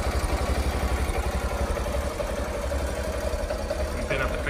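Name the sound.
Yamaha TownMate 50cc 4-stroke motorcycle engine idling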